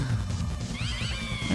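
Cats meow in the video game Deltarune Chapter 3, a short run of clear rising and falling mews over a low game backdrop.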